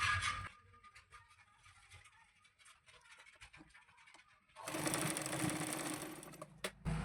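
A sewing machine runs a double-fold stitch along the edge of a katori blouse, starting after a few seconds of quiet handling and then stitching steadily and loudly to the end.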